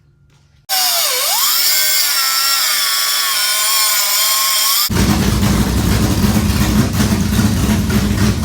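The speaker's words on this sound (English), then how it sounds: "I'll try to get these bolts cut right now." Power tool cutting through transmission mount bolts on a race car during engine work, a loud sustained whine with shifting pitch that changes to a rougher, broadband grinding rasp partway through, close and continuous.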